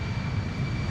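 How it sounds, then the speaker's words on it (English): An Embraer 190 jet departing Amsterdam Schiphol Airport gives a brief, steady low engine roar with a faint high whine above it. "An Embraer 190 flying to question mark."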